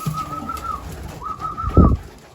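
Racing pigeons coo close by in two drawn-out, warbling calls separated by a short pause, with a soft thump near the end of the second call.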